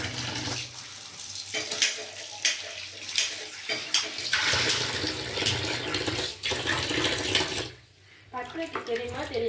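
Water runs from a tap while vegetables such as onions and tomatoes are washed, a continuous splashing flow with brief pauses, under a voice talking in a home kitchen.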